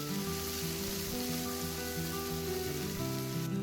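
Ground prawn masala paste for prawn bharta frying in hot oil in a home kitchen, a steady close sizzle with faint crackle and a low background hum throughout.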